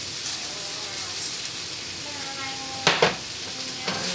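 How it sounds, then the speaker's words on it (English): Rice fried and stirred in bacon fat with garlic and jalapeno, a steady hissing sizzle with a couple of sharp scraping stirs near the end, close to the pan. "I'm gonna add some rice to it, and the rice is actually gonna cook with this"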